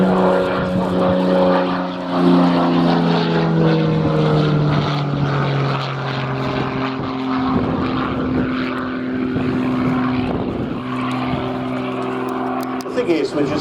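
A North American Navion single-engine propeller aircraft flies past at a military airshow, its steady droning engine note loud and close, sliding slightly in pitch as it passes, with some talk underneath.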